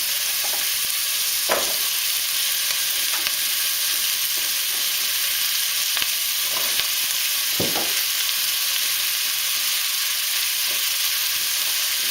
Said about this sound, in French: faire revenir rapidement, histoire que ça dégage un petit peu les odeurs